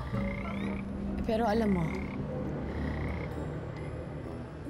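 A frog croaks loudly in a rapid rattling call near the start, with a steady background hum and a person speaking briefly.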